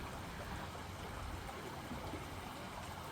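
A small stream trickles and burbles by a lake in Calgary, in a steady, even wash of water sound, quiet and unbroken, with no voices.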